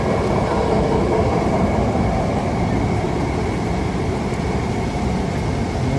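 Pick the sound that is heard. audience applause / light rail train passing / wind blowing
light rail train passing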